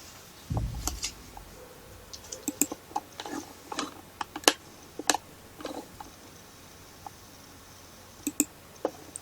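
Sharp computer mouse clicks while drafting in AutoCAD, scattered and irregular, close and crisp over a quiet background, with no talking.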